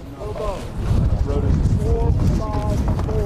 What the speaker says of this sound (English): Bit windy out don't know if you can hear that on on the stream.